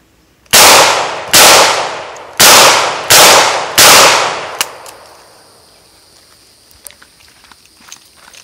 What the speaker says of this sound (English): Taurus circuit judge. 410, home defense rounds.